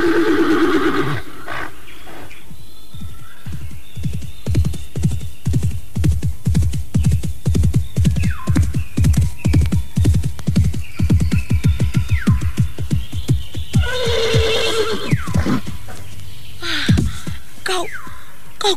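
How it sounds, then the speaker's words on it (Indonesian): A horse in a historical Javanese audio drama whinnies loudly at the start and again near the end, with a rhythmic run of clopping hoofbeats in between and no talking. "Kau kuda yang sangat baik, Putih."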